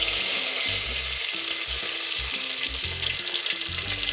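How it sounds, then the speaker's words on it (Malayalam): Curry leaves hit hot oil that already holds popped mustard seeds, setting off a loud, dense, crackling sizzle that fills the whole stretch close up. "അതിലേക്ക് കറിവേപ്പില ഇട്ട് കൊടുക്കാം."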